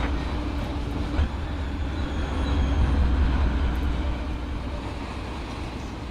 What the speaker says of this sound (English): it's so awesome to listen to the train go by. Just the rolling sounds are really good.